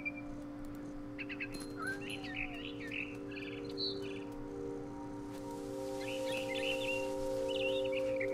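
A frightened bird in the video game What Remains of Edith Finch gives quick, faint chirps and twitters in two short bursts over a soft, steady tonal music bed.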